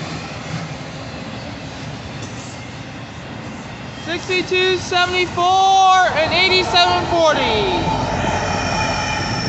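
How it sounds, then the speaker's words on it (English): A voice speaks briefly. A Union Pacific northbound intermodal freight train rumbles past while its horn sounds several loud blasts, then the rumble continues. "Listen to that train, guys."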